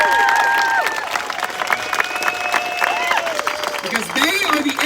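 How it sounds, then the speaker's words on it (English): A rally crowd applauds and cheers continuously, loud and sustained, with a speaker's voice heard over the clapping. "So let's give them a big round of applause."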